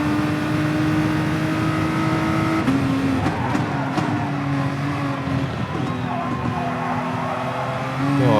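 A Nissan race car engine in Gran Turismo Sport at Spa roars steadily at high revs, with a sustained whine that shifts pitch at a few gear changes, loud and continuous throughout.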